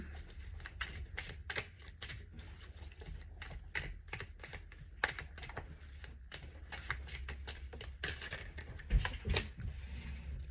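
Tarot cards are shuffled and drawn by hand, a dense run of soft rapid flicks and taps with occasional sharper snaps, quiet and close, continuing steadily with no speech.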